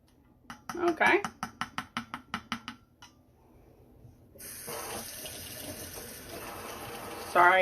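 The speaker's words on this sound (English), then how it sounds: "That was me rinsing off the spoon." A spoon clinks against a surface in several quick taps, then a kitchen tap runs and water splashes over the spoon as it is rinsed, loud and close.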